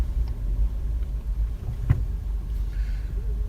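A 2014 Toyota Land Cruiser Prado TX driving off-road over a ridge, steady low engine and road rumble from inside the cabin, with a brief knock or bump partway through.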